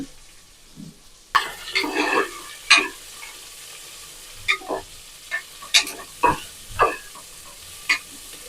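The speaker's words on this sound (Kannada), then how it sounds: "ಒಂದು ಟೇಬಲ್ ಸ್ಪೂನಷ್ಟು ಗಸಗಸೆ ಒಂದು ಇಂಚಷ್ಟು ಚಕ್ಕೆ ಒಂದು ಐದು ಲವಂಗ ಇಷ್ಟು ಹಾಕ್ಕೊಂಡು ಚೆನ್ನಾಗಿ ಫ್ರೈ ಮಾಡ್ಕೊಳ್ಳೋಣ" Poppy seeds, a piece of cinnamon and about five cloves being fried in a pan for a sprouted-bean sambar, with a soft sizzle beneath repeated sharp scraping and stirring strokes of a spoon, close and irregular.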